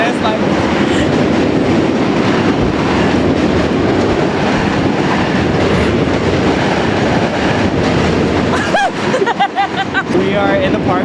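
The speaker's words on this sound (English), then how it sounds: "on the bridge is the train. So if you ever hear, it's because the train's going by us." A train rumbles loudly on a bridge overhead with rhythmic clattering of wheels on the tracks, fading near the end as voices talk close by in a park below.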